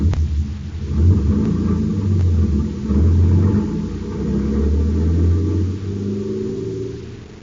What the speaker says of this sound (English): It swerves from side to side as the big truck rumbles to an unknown destination.